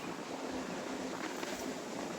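Wind gusts and rumbles across the microphone on a very windy June day at Calvary Cemetery in Nashville, Tennessee, as a steady, fairly soft broadband rush, with no speech.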